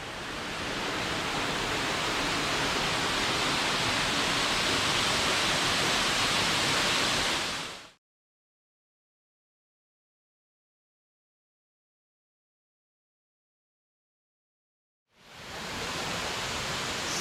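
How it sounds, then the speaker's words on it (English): Soagahoagdee Falls in Alabama's Bankhead National Forest roars as a steady broadband rush of falling water, cut off to silence in the middle before the same wash returns. "Such a pretty waterfall."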